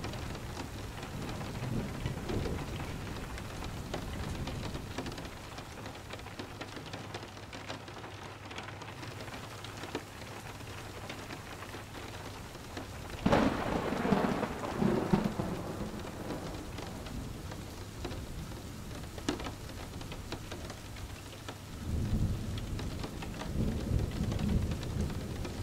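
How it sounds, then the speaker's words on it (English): Steady rain patters on surfaces throughout a thunderstorm, with low rumbles of thunder rolling in, a louder burst mid-way and another swell near the end, distant and calm. "Following the raindrops down the tunnel, the sound of the storm fades off and out."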